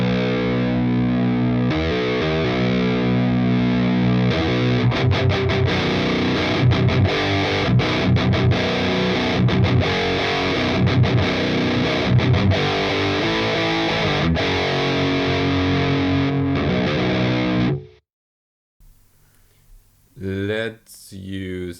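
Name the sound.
guitar through Audiority Solidus VS8100 amp with TS808 Bright distortion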